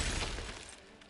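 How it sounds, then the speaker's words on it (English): Glacius freezing spell in Hogwarts Legacy lands as a brief, bright crackling burst like shattering ice, loud at the onset and fading quickly over about a second. "Glacius!"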